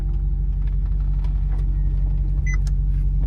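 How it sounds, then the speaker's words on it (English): Electric convertible roof mechanism on a Maserati GranTurismo, the roof folding down into the opened tailgate section, heard as a steady low motor hum and whir with a few faint clicks and a brief mechanical whine near the end. "The tailgate section will open to allow the roof to drop into the top of that section"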